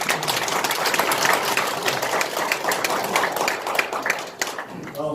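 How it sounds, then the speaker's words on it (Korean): Audience applauses in celebration right after a signing ceremony for an investment memorandum between Lemon Co. and Gumi City, Gyeongsangbuk-do; dense, steady clapping fills the whole stretch, with a faint voice underneath, thinning slightly near the end. "모두 큰 박수로 축하해 주시기 바랍니다."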